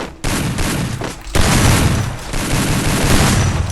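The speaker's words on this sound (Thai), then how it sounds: "น่าจะเป็นลูกซองนะที่เพื่อนเล่นนะครับ" Shotgun fire in the mobile battle royale game Free Fire, loud close blasts in quick bursts with dense, booming gunfire continuing without pause.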